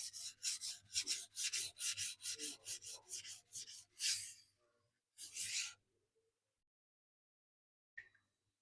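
Knife stropping across a 1K silicon carbide whetstone in rhythmic back-and-forth rubbing strokes, about a dozen quick passes, then two longer strokes, a pause and a faint tap near the end.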